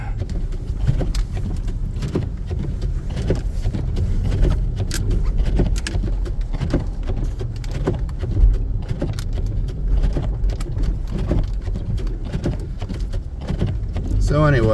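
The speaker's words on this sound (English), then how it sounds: "Getting some down branches here we're driving over" 2014 Jeep Grand Cherokee Summit driving over fallen branches during a Kansas blizzard. Steady cabin road rumble runs throughout, with scattered snaps and knocks from the branches, and a voice talks over it.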